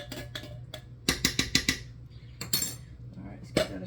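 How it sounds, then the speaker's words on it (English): Chicken soup with cannellini and lima beans being stirred in a pot, a utensil clinking and scraping against the metal in a quick burst of knocks, then a few more later, over a faint background hum. "let's give that a stir"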